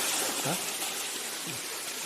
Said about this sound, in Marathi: तिथून झरा आला